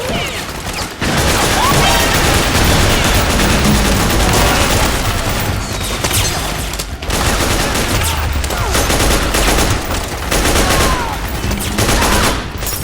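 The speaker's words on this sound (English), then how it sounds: "Every gun just sounds meaty and heavy" Gunfire from the video game Metal Gear Solid 4, loud and dense with heavy automatic bursts and booming shots that pile up almost nonstop and break off only briefly.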